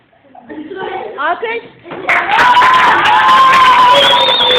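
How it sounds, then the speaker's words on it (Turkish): Children at a school sketch performance break into applause and cheering, a burst of clapping with high excited shouts that swells and stays loud after some earlier voices. "Alkış."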